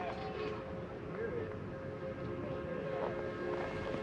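A Redwood Valley Railway steam train runs far off, a faint, steady rumble with thin tonal whistle-like traces under a quiet outdoor background, with some talk nearby.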